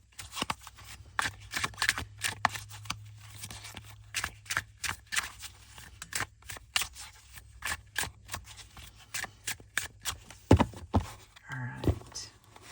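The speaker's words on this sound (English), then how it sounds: "I'm going to shuffle these" A deck of oracle cards is shuffled by hand in a quiet room, making a rapid series of crisp papery slaps and riffles that stay close and fairly soft, with small handling sounds near the end.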